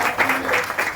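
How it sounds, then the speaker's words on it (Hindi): A brief burst of audience applause during a network-marketing training session, with several loud, dense bursts of many hands clapping together over about a second. "इसके लिए मैं एक जोरदार ताली बजाऊंगा"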